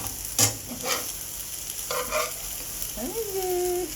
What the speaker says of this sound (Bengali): এই যে হয়ে গেছে আমার ডিম ভাজা